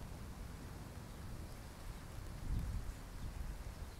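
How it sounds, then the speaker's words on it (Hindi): Steady rain hiss in Katra near Vaishno Devi, with a low rumbling swell midway, the downpour growing denser and louder toward the end. "अब तो बारिश भी और तेज होने लगी"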